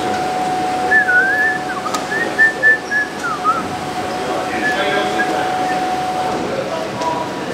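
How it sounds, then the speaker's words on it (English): A coach's whistle at football training, blown in a few short rising and level chirps over a steady background hum and outdoor ambience. "Here's the whistle."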